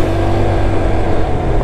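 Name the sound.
car overtaking another vehicle on the road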